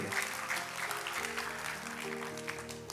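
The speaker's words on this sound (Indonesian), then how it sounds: "Kita kasih tepuk tangannya pula yang paling meriah buat Tuhan." A church congregation applauds during a sermon, a dense, lively burst of clapping that holds steady throughout.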